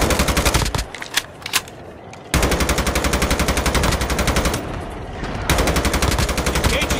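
Rapid automatic gunfire from Call of Duty rattles in long, loud, evenly spaced bursts, broken by short pauses with a few scattered shots between them.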